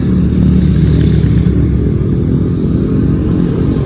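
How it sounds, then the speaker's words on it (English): Postie motorcycles fitted with knobbly tyres ride past on the road, a loud, close, steady engine rumble with clattering texture and wind noise throughout, no speech. "we have a bunch of lads in postie bikes, all with knobbly tyres"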